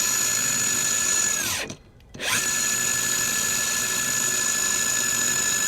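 A gear drive electric skateboard motor runs with a steady, loud, high-pitched whine, pausing briefly near the two-second mark before spinning back up; no one speaks.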